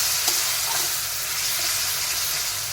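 Onion, ginger and garlic paste with soaked spices being stir-fried in a pan for a catfish curry; an even, close sizzle with soft scraping strokes of stirring, steady throughout and without speech.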